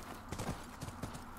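Horse hooves clip-clopping in The Last of Us video game, a few close, even hoof strikes at a walking pace over a low background hum.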